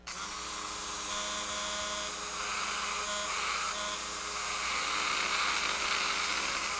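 Small stones being ground for a whittling project give a continuous high, buzzing whine from a rotary grinding tool, close and constant with no pauses or voices.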